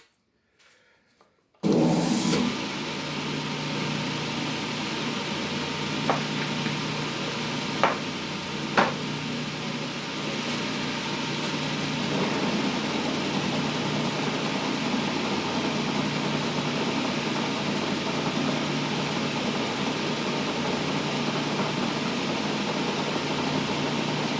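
A Hendey lathe fitted with a swapped chuck spins up after a brief quiet start, then holds a steady, close mechanical whir and hum with a few faint knocks, and no one speaks.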